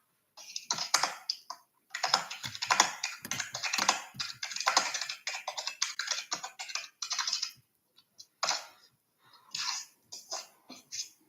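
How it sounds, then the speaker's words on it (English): Rapid clattering keystrokes on a computer keyboard come in close, dense bursts of typing, broken by short pauses and a few sparse final taps, with no voices. "That's me typing, sorry."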